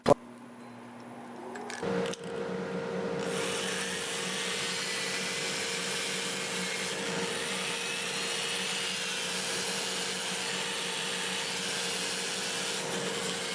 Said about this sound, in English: Turn my dust collector on now.